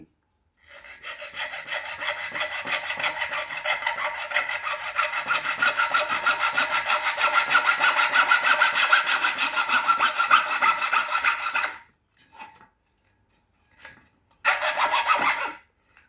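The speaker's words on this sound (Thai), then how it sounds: "เราก็เลื่อยท่อ PVC เรา ขนาดหกขุน" Rhythmic back-and-forth hand sawing through 6-inch PVC pipe, steady strokes for about eleven seconds, then a pause, a few faint scrapes, and a short final burst.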